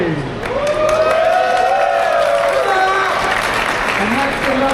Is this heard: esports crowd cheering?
yes